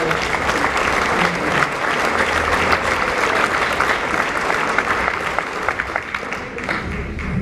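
Sustained loud applause from a large audience at a nonprofit gala award ceremony, steady dense clapping throughout with some crowd noise mixed in.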